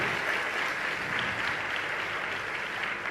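Dense, continuous applause from a large crowd at a religious discourse gathering, an even hiss of clapping that holds steady throughout.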